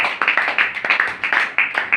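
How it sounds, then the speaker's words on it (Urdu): Several people clap for a sister, sharp uneven hand claps in a quick, ragged rhythm that stays moderately loud and close for the whole moment, with no talking over them. "سسٹر کے لیے زوردار تالیاں"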